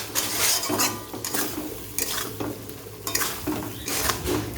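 Potato and taro pieces frying in a pan while being stirred, with repeated scraping and clattering of a metal spatula against the pan over a soft sizzle, close and fairly loud in uneven bursts.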